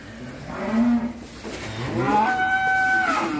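Cattle on a Vinh Long bull breeding farm: a loud, close moo rises and falls, followed by a second drawn-out, higher moo from another animal, over steady farmyard background noise.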